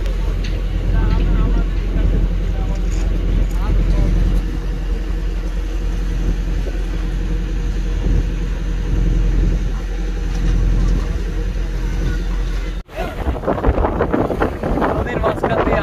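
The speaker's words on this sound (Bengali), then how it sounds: "নদীর মাঝখান দিয়ে আমাদের নৌকা চলমান আছে, চারপাশে ঢেউ আর ঢেউ" A motorised trawler travels mid-river on a morning run, its engine droning steadily with wind buffeting the microphone throughout, then a brief cut leads into a busier, louder passage of wind and water noise.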